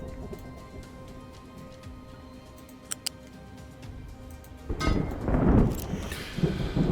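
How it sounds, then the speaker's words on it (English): Rain begins in the city-building game Captain of Industry, a soft broadband hiss that swells in partway through after quiet ambience and a couple of ticking clicks. "Oh, rain. Nice."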